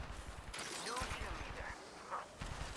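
Rapid gunfire bursts from a video game's weapon crackle repeatedly and loudly, overlapping with speech from players talking throughout.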